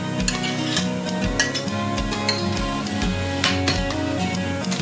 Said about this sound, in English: So we're going to stir this up.